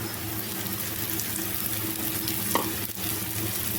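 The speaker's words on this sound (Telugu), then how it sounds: "సో ఇప్పుడు ఒక 2 నిమిషాలు ఇది ఫ్రై అయిపోవాలి. ఉల్లిపాయలన్నీ ఫ్రై అయిపోయాయి కదండి." Onions fry in a pan with a steady, close sizzle, a constant crackling hiss that runs unbroken, with a brief stirring scrape partway through.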